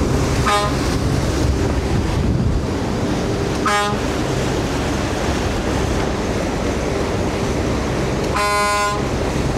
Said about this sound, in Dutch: We hebben een nieuwe toeter